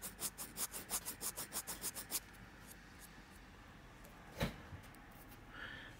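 A gate nub on a Gunpla plastic model part is rubbed down with quick, regular back-and-forth strokes, a dozen soft close scrapes over about two seconds, then near quiet with one faint tap.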